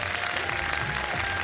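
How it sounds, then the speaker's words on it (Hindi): Studio audience applause on a Ramadan iftar TV show, a brief steady wash of clapping at moderate level with no talk over it. "इन्हें तालियां बजा दें"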